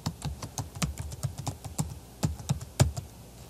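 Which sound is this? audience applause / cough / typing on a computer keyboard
typing on a computer keyboard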